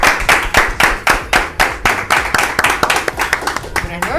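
An audience claps in steady, rhythmic bursts to welcome a guest onto the stage of a Spanish-language show, loud and close, with voices mixed in under the clapping.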